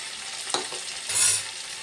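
Boneless chili chicken tossed with soy sauce and a spice mix in a pan, giving a soft sizzle with a brief scrape around the middle and a brighter hiss of frying toward the end, close and fairly quiet.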